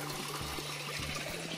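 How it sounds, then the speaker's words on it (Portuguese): A small waterfall in a backyard splashes and gurgles as a continuous close wash of falling water, with a low steady hum underneath. "Aqui é uma cascata que tem no quintal."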